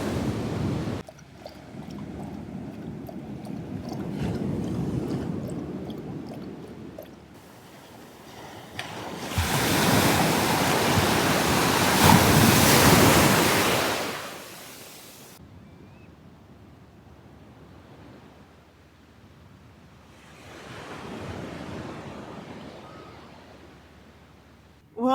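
Ocean waves surge and break on a Vancouver Island shore, building to a loud roaring crash midway and then fading into a quieter wash, with wind buffeting the microphone throughout.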